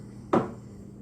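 A kitchen drawer shuts with a single short wooden knock and a brief rattle of its contents, fairly close and on its own against a quiet room.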